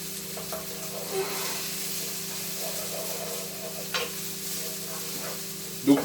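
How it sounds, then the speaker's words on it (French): Onions fry and sizzle softly in a pan for lasagne, a steady low crackle with occasional stirring scrapes and a faint clink near the end, heard fairly quietly with no talking. "Donc le but, c'est encore d'obtenir des oignons entre translucides et légèrement caramélisés"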